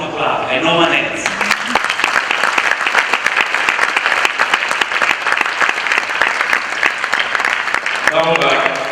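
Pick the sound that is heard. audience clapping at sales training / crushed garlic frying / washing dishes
audience clapping at sales training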